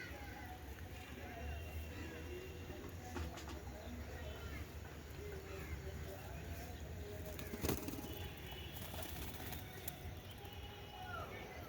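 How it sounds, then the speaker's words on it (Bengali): Pigeons flutter and coo faintly around their medicated drinking water, with soft wingbeats and light bird calls over steady low background noise. Someone speaks briefly nearby. "পায়রা এখন জল খেয়ে নিই"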